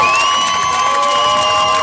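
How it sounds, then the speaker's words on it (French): A large outdoor crowd at the FISE Montpellier action-sports festival cheers, whoops and applauds the riders, a dense continuous roar with high whistles and shouting throughout. "On applaudit bien fort tous nos riders"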